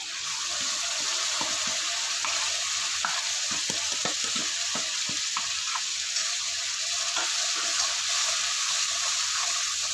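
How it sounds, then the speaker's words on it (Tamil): Ground onion paste fries in a pan for cashew kurma, giving a steady, close hiss of sizzling oil with occasional scraping stir strokes, and no talk over it. "இந்த வெங்காயத்தை அரைச்சது போட்டுக்கிறேன்."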